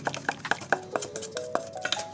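A spoon stirs chili flakes, green onion and sesame seeds into a spicy dipping sauce for chicken momos, giving a steady run of close clinks and scrapes against the dish, about eight distinct taps with no talking.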